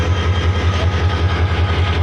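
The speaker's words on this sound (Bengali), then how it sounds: "আন্তনগর ট্রেন আসছে।" An intercity train rolls past at a rail crossing, its heavy low rumble steady and loud throughout with a continuous broadband rattle of wheels and cars above it, no voices.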